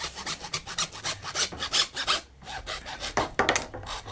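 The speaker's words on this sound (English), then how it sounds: "After measuring it, then you take the hacksaw," A hacksaw cuts a pipe for a homemade solar heater in quick, rhythmic back-and-forth rasping strokes, close and with no talking.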